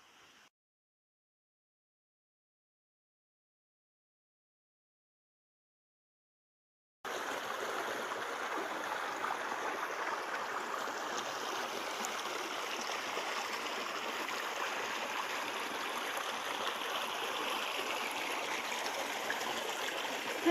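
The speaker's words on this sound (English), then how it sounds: "I just love the sound of running water." A forest stream runs steadily beside a walking trail, a continuous broadband rush of flowing water that starts abruptly after a stretch of silence and stays even and fairly close, with no talk over it.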